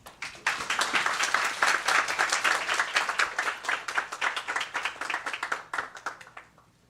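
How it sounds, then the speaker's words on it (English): Audience applause at a university event on disinformation and media literacy, welcoming the day's speakers: a room of people clapping steadily for several seconds, close and fairly loud, then fading out at the end. "Let's give applause and welcome to speakers for today."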